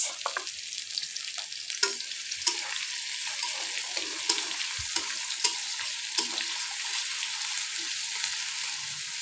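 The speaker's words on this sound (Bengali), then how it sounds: "আমি এখন দিয়ে দিচ্ছি কোচানো পেঁয়াজ" Chopped onions added to hot tempering spices sizzle steadily in a hot pan, a constant hiss with occasional sharp pops and stirring clatters.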